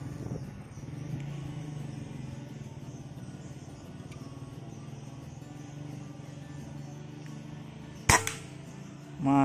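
Samyang air rifle shot, a single sharp crack near the end, standing out over a low steady background hum.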